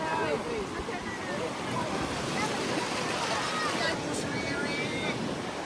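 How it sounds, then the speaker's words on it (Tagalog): Strong wind gusts across the beach at Station 1, Boracay, a steady, loud broadband roar with surf washing underneath, blowing continuously throughout. "sobrang lakas ng hangin"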